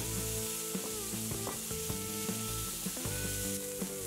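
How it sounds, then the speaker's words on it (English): Two 150-gram dry aged beef smash burger patties sizzling on a grill, a constant close hiss broken by repeated sharp clinks and scraping taps at irregular intervals, no voices. "Then place two 150 grams patties and smash them"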